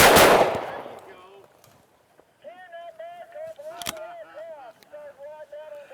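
A shotgun fired at a bird during a hunt, one loud, close blast at the start that fades out, followed by a duck call honking and a person talking.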